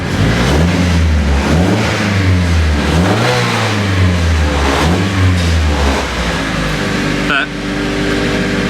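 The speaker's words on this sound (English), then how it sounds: "Starts like a car." A turbocharged Honda K24 engine swapped into a Mazda RX8 track car running loud and close, revving up and down in repeated blips, with voices talking over it.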